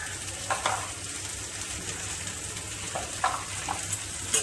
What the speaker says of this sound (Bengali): পেঁয়াজটাকে আমি লাল লাল করে ভেজে দেবো।